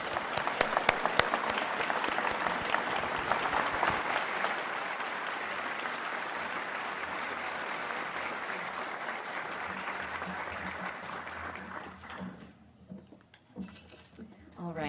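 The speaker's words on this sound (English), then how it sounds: "You can't be done clapping yet." Sustained audience clapping after a policy discussion on AI, a full, bright burst of applause that gradually thins and fades out near the end, with a voice starting to talk over the last few seconds.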